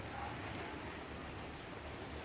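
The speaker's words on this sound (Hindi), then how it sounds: "कितनी खूबसूरत अच्छी बारिश हो रही है" Steady rain falling outdoors, a soft, even hiss that holds without pause, faint and distant, with no voices over it.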